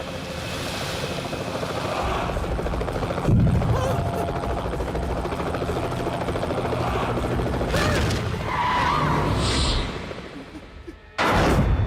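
A loud, steady helicopter roar with rotor throb fills the scene, continuous and close, cutting out briefly near the end before returning.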